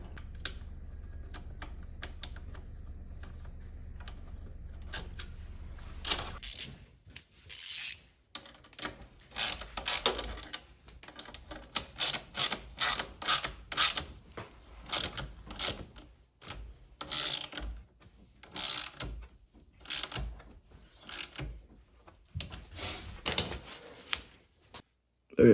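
Ratcheting and clicking metal tool sounds while an FMF exhaust is bolted onto a Yamaha PW80 dirt bike, irregular close bursts of wrench clicks and clanks after a low hum fades out.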